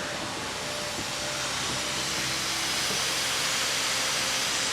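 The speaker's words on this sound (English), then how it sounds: "zone 4 is now cracked open, and we're going to turn on the air" Compressed air rushes steadily through an opened sprinkler system zone during a yard blowout, a loud, continuous broadband hiss and roar with no break.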